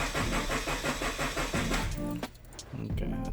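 A Scion FR-S engine cranks over with the fuel pump fuse pulled, a steady rhythmic churning of the starter that stops abruptly and then resumes, close and fairly quiet, with no talking.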